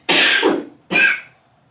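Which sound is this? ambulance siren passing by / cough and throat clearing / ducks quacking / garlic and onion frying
cough and throat clearing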